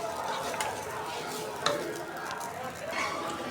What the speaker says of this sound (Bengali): চালগুলো ভাজা শেষ, ঝরঝরে হয়ে গেছে যে